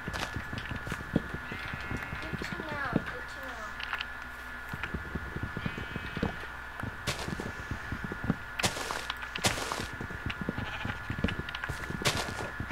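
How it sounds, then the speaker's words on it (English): Several Minecraft sheep bleat in short wavering calls, scattered among rapid clip-clop footsteps and clicky interface sounds. "there's a bunch of sheep around here, Lolly, if you want to, maybe go and kill th"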